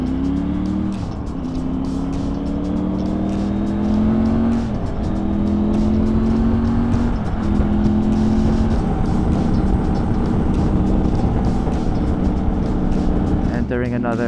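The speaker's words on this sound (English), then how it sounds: "we've got the bike in sport mode now" A Triumph Tiger 900 adventure motorcycle ridden in sport mode on a highway hums with a steady engine drone, the pitch climbing through gears with brief dips at each shift, under wind rush and a rider talking over it.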